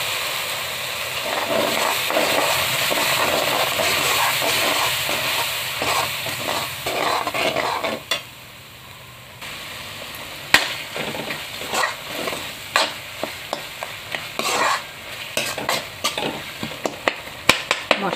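Ground cumin, coriander, chilli, turmeric, bay leaf and salt frying with onions in a pan, a loud continuous sizzle with stirring scrapes, then a brief lull followed by sharp irregular spoon knocks against the pan.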